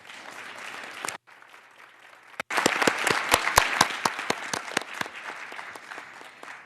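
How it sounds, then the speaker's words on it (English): Audience members at a United Nations World Wildlife Day celebration at UN Headquarters clap, with a few scattered claps at first, then a short gap, then a fuller burst of distinct, close handclaps that slowly thins out. "So can we please just give a clap for those people?"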